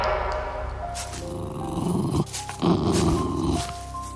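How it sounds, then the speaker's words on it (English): A low, continuous dog growl rumbles close by, swelling and dipping in intensity, with no talking. "And then you hear growling."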